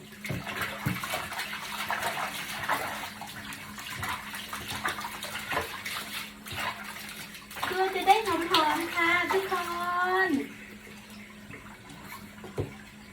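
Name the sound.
water splashing while bathing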